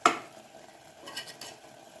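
A spoon scrapes and stirs mutton gravy in a pan over a high flame, with a short sharp scrape at the start and faint sizzling beneath softer stirring strokes.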